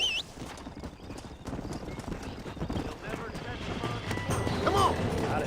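Rhythmic hoofbeats clip-clop steadily under overlapping talk in the video game Red Dead Redemption, with a horse whinnying briefly near the end.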